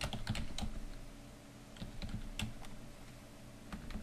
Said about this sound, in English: go ahead and type in your signature.